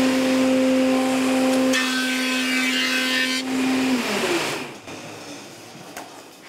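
A workshop dust extractor fitted with a new 4 inch cyclone runs with a steady loud hum and rushing air, then spins down and fades over the last couple of seconds.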